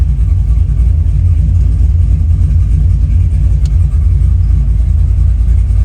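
A 1971 Chevelle with a modified TH400 transmission drives at low speed, its V8 giving a loud, steady, deep rumble that fills the cabin throughout with no talk.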